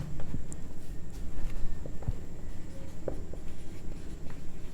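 A pen scratches steadily across paper while working a class 10 maths problem, continuous and close with faint scattered taps and knocks in the background, and no speech.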